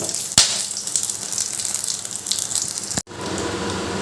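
Whole spices frying in hot oil for tempering: cumin seeds, a bay leaf, a dried chilli, a small cardamom and cinnamon pieces give a steady, loud hissing sizzle, with a sharp clink early on and an abrupt break near the end.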